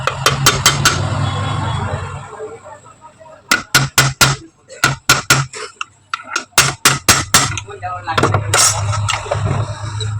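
Parts are hammered into place during ceiling fan rewinding, with loud, sharp metallic strikes coming in quick bursts of several blows separated by pauses, close up, with a low hum underneath.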